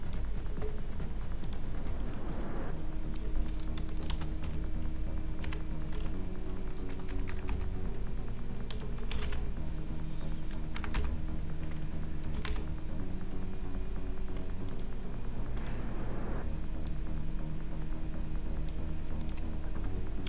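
Steady keystrokes on a computer keyboard while working in Photoshop, a continuous stream of light taps running for about twenty seconds over a constant background tone, with no talking.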